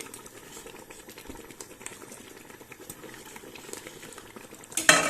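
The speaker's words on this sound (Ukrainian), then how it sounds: "кипить, бачите, воно вже густеньке" Thick tomato sauce bubbles and spatters steadily in a pot, with soft stirring scrapes, then a sharper clatter of utensil against pan at the end.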